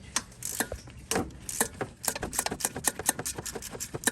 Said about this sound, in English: I'm using my 1/4" ratchet and a deep 10mm socket to break those free.